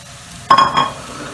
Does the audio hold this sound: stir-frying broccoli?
yes